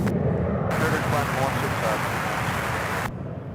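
A jet taking off at Charlotte Douglas International Airport, a loud sustained broadband roar that swells at once and holds steady for about two and a half seconds before easing off, with faint radio chatter underneath.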